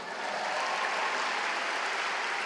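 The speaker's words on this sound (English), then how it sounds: "Give yourselves a round of applause." An audience in Carnegie Hall applauds itself in a brief, dense wash of clapping at even volume, with no clear individual claps standing out.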